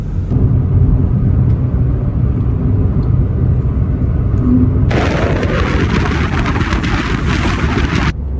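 A car climbs a winding hill road on the Bangalore to Mangalore route. A steady low engine and road rumble runs throughout, buffeted by wind, with a louder broad rushing hiss swelling in the middle stretch before dropping back.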